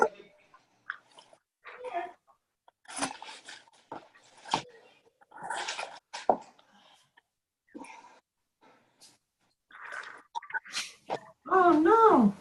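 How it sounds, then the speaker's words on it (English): A pet dog whimpers in short, whiny bursts indoors, the cries scattered between moments of quiet and ending in a louder run of high, wavering whines near the close. "I heard my doggie."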